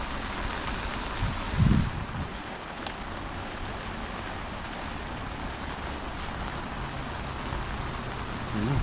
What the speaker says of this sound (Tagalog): Ano, lumakas na ang ulan.